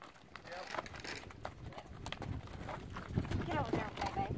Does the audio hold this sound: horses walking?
yes